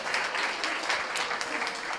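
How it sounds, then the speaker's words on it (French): A conference audience applauding panelists at an event on eco-responsible event organisation, brisk continuous clapping from many hands, fairly close and even throughout. "il y a une bonne main d'applaudissements pour nos panélistes"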